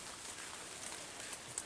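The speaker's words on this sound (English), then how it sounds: "It's raining out," Steady rain falls outside at night, an even broadband hiss with a few faint drip ticks, no voices.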